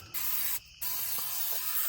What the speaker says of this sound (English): You can just spray it all over everything. It coats and protects.